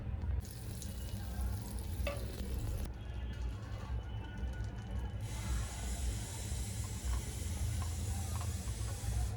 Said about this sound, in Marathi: मी आता पॅन गरम करायला ठेवलाय अर्धा चमचा बटर टाकून घेते